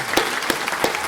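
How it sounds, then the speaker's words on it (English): Audience clapping at a thank-you luncheon for memory center research partners, a short burst of steady, fairly close applause from a room of people. "I'd like everyone to just give Terry Casey an applause."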